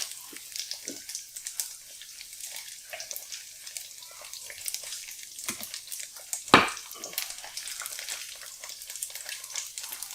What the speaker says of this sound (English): That bacon grease is splashing all over the place.